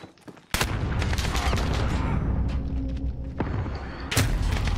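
Gunfire in Modern Warfare: a sudden loud burst of rapid shots breaks in and rattles on continuously, with a second heavy burst near the end, close and dense.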